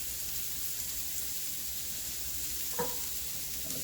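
Bacon fries in a pan, giving a steady, hissing sizzle that runs the whole time, with one brief clink near the end and no talking. The bacon is for a giant Coca-Cola breakfast burrito alongside Coke-cooked potatoes.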